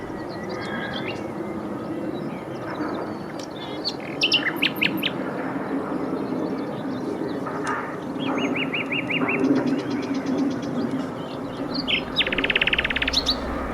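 Two or three nightingales hidden in scrub at Stanford Warren sing a rich, varied series of trills, whistles and rapid repeated notes, fairly close and loud over steady outdoor ambience.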